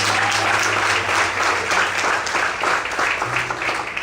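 A church congregation breaks into strong, continuous applause during a sermon, the clapping dense and even from start to finish, with a low hum underneath.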